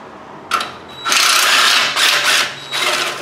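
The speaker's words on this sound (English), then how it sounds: "Let's see if we can get it with the socket here." Socket wrench ratcheting on a Honda Odyssey, in a few loud close bursts of rapid clicking with short pauses between them.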